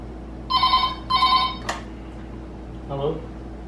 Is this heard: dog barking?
no